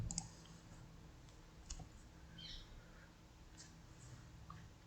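A mouse click on a web page button in a Bareilly-area property tax payment portal: a few faint, sparse clicks spread over a quiet room background with low hum, no talk.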